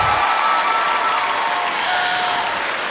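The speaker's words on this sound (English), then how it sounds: "How about another round of applause?" Steady, loud applause from a large audience at a beauty pageant, a dense wash of clapping that fills the hall without a break and carries no speech.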